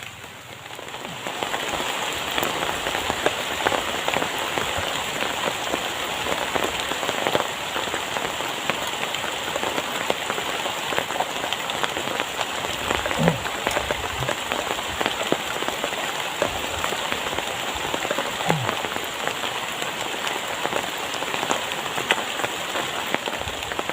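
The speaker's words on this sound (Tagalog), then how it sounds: "bumalik na ulit yung ulan" Rain falls steadily near trees, a dense continuous hiss of drops on surfaces with a few faint low thumps underneath.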